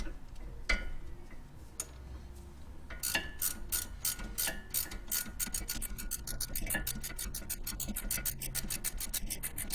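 Two 17mm wrenches turn bolts on a 2006-2014 first-generation Honda Ridgeline pickup, producing a steady run of rapid ratcheting clicks from about three seconds on. Earlier there are a few scattered metallic knocks, and the clicking stays close and moderately loud with no talk.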